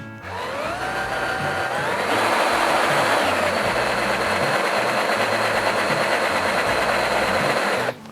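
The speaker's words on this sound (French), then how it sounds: "on attaque la démonstration du perçage du métal" A Ryobi R18DD3 cordless drill-driver, set to maximum torque and minimum speed, spins up with a rising whine, then drills into metal for several seconds as a loud, steady grinding whir with a harsh edge, and stops abruptly at the end.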